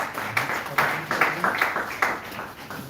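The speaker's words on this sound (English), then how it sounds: "I request a huge round of applause for them" Audience clapping for an expert jury panel at a school of management event, a moderate wash of claps with soft peaks, fairly steady for a few seconds.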